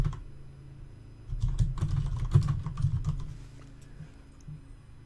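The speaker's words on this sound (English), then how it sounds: "You type in the name of the file." A file name is typed on a computer keyboard in a save dialog: a close burst of quick key clicks lasting a few seconds over a quiet room hum.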